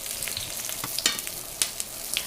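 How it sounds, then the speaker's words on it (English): Dumplings searing in a hot frying pan give off a steady, close sizzle broken by a few sharp crackles and pops, with no voices. "we're gonna go ahead and start with our dumpling searing / cooking"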